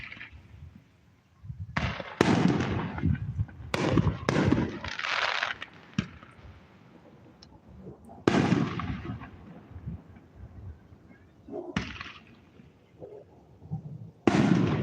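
A small-town fireworks show heard from a camp in Wyoming: a string of loud booming bursts, some near and cracking, others trailing off with crackle, spaced a second or two apart with quieter pauses between.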